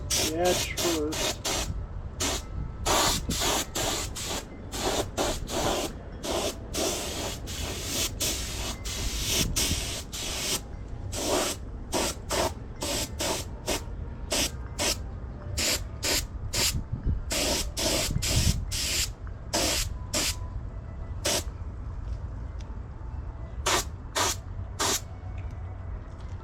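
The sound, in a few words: paint spray gun spraying coat on motorcycle cover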